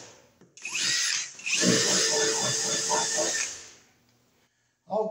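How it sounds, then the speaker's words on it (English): A power drill drives its bit into a wooden wall, making a broad whirring grind that runs steadily for about three seconds and then stops, followed by near silence and a brief clatter at the end. "I'll just drop it out with the drill bit here."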